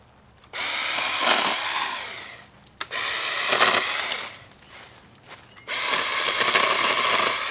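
A Greenworks 40-volt battery pole saw cuts tree branches in three loud, sustained bursts of buzzing chain noise, separated by brief quiet gaps.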